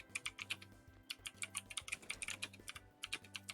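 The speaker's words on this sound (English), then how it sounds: "I'm typing, sorry." Rapid typing on a computer keyboard during a Pokemon Brilliant Diamond/Shining Pearl session, a steady clatter of close, crisp keystrokes over soft lo-fi game music.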